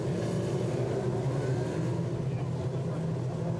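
TQ midget race cars circling a dirt speedway track during a New Zealand championship meeting, a steady, dense engine drone from several low-powered cars holding throughout with no clear pass-by.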